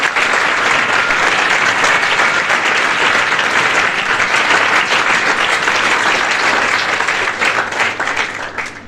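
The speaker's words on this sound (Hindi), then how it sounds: "और अब हमारे मनोज सर के लिए जोरदार तालियां बजाइए।" Loud, dense applause from a large audience greeting a teacher at a motivational student event, sustained evenly for about eight seconds before starting to taper off.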